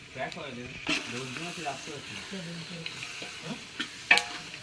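Chicken sizzling in a frying pan as it is stirred, with faint scrapes and a few sharper clinks, partly under a voice speaking.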